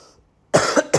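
Two harsh, close coughs in quick succession burst out after a half-second of near silence, the second cough shorter than the first, with no talking.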